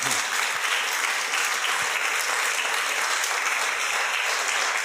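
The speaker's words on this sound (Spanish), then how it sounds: "¿No le da un fuerte aplauso al Señor por esto?" A church congregation gives a loud, sustained round of applause to the Lord during a Spanish-language sermon. The clapping fills the room evenly with no voices over it.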